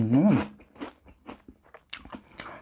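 Crunchy Calbee shrimp crackers bitten close to the mic: one loud crisp crunch, then a few softer chewing crackles, heard alone.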